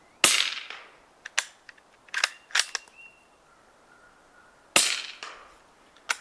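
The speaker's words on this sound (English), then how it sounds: "let me just go ahead and shoot a couple downrange into the dirt." Suppressed rifle fitted with an AB Suppressors Mission Enhanced Little Bird, fired downrange into dirt outdoors: several sharp, dull cracks at uneven intervals, each trailing off in a short ringing tail, with quiet gaps between.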